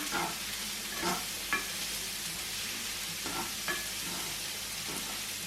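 A small child stirring a spoon through a sizzling pan with onion and sweet pepper, a faint steady frying hiss with a few irregular scraping knocks.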